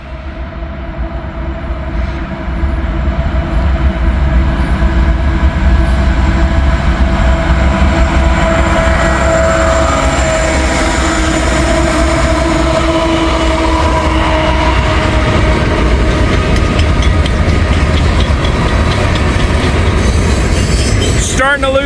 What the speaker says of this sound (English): So this is going to classify as a night train.